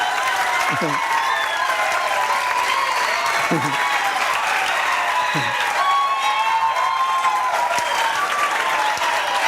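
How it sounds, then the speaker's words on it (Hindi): Loud, steady applause from a large audience fills the whole stretch without pause, with a few faint voices showing through the clapping. "इस पर बहुत बढ़िया ताली बजाएंगे।"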